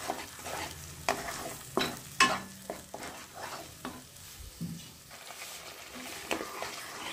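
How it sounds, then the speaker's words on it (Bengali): Onion, ginger and garlic fry in a pan with a low steady sizzle. Sharp scraping stirs and clacks of a spatula hit the pan every second or so, close and quiet, with no talk. "পেঁয়াজ আদা রসুনটাকে সামান্য ফ্রাই করে নেব"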